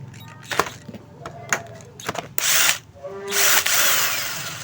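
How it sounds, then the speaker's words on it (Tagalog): Power screwdriver or drill backing out the four screws of a turbo electric fan that has power but will not spin, in short whirring bursts with clicks and handling noises, close up. "Tanggalin muna natin yung mga 4 na tornilyo."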